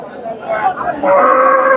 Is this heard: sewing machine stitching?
no